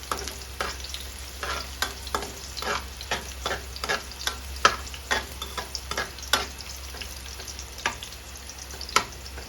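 Pork and cabbage being stir-fried in a pan, a steady sizzle punctuated by sharp, regular scraping strokes of the spatula, close and clear with no talk.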